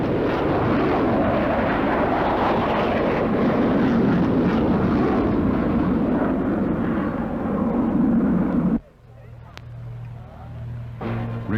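Pratt & Whitney turbofan of an F-16 fighter jet with afterburner at the 1981 Farnborough air show, a loud, continuous jet roar for about nine seconds that cuts off abruptly into a much quieter background.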